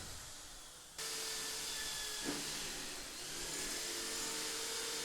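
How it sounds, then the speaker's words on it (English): A drill kicks in and whirs steadily with a bright, high whine as it bores holes through metal square tubing, nearby and continuous for several seconds. "Drilling the holes through each of these square tubes"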